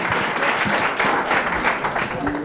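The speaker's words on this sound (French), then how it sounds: "Applaudissements pour lui aussi." Crowd at an oyster-opening competition for maritime school students in Charente-Maritime claps for a contestant, a brief, dense burst of steady applause filling the space.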